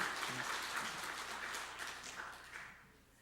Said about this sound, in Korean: 우리 박수로 다시 한번 하나님께